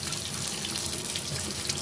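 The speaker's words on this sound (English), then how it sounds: "Put some more hot water in there." A steady stream of hot tap water pours into a sink during wet felting, a close, even rushing splash that holds constant throughout with no voices.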